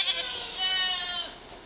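A goat on a farm lets out one drawn-out, quavering bleat close by, rising and then fading.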